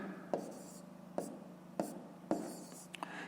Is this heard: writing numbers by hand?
yes